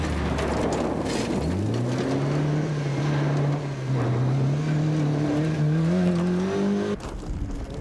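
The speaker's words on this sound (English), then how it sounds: "This is the Volvo Amazon of Graham Waite from Nuneaton" A Volvo Amazon rally car at a Scottish rally, its engine note rising steadily as it accelerates past at speed, loud and continuous before cutting off abruptly.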